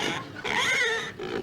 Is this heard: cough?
no